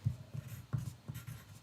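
Pen scratching on small pieces of paper for a jar, a series of soft, quick strokes in an irregular rhythm, close and faint, without talk.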